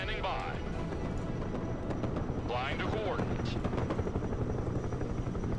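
Helicopter flying in the combat video game Broken Arrow, a steady rotor and engine drone running throughout beneath near-constant radio chatter and voices talking over it.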